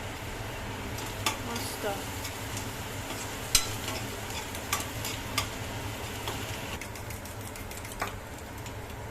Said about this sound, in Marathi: आता हे सगळं छान परतवून घेत आहे.